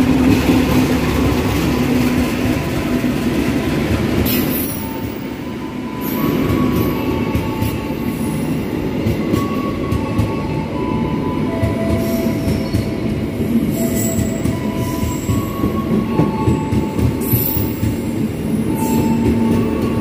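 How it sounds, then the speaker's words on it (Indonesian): The Fajar Utama Jogja passenger train rolls steadily through Cikampek station without stopping, at close range, wheels squealing and rumbling loudly for a long stretch without pause. "Kereta api Fajar Utama Jogja sudah melintas langsung stasiun Cikampek."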